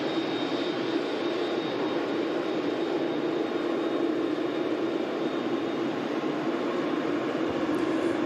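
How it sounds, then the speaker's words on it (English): Airbus A380-800 at Manchester Airport, a steady broad jet engine roar held at constant loudness with a faint high whine, no voices. "Biggest passenger aircraft on the planet there. The Airbus A380 800 series."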